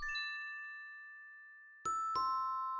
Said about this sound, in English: It'll give us that little doorbell sound when we're done switching scenes.